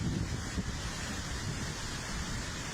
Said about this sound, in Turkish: Elazığ'da etkili olan yağışlar Alıcakaya ilçesinde bulunan Soru Şelalesi'nin taşmasına sebep oldu.